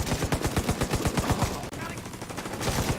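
A heavy automatic weapon in Tom Clancy's The Division 2 fires rapid, loud bursts in a steady rhythmic stream, pausing briefly before resuming amid game noise.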